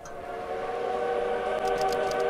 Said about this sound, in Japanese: 電車来ましたよ、乗りますか。